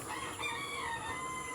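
A rooster crows once in a drawn-out call, fairly close, over a steady background hiss.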